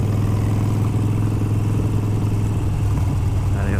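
A Harley-Davidson Iron 883 converted to 1200 rides along wet country roads, its engine a loud, steady close rumble with road and wind noise throughout, no voices.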